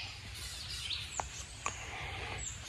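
Birds sing at morning in spring woodland in the Hoosier National Forest, a few faint scattered chirps and short whistles at a distance over a soft, steady outdoor hush.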